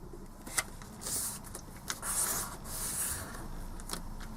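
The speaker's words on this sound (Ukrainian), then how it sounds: "Беремо листок, складаємо його на бік двічі." A 15 by 15 cm square sheet of paper is folded for an origami steamboat, with soft rustling and rubbing swishes broken by a few crisp creasing taps, close and quiet.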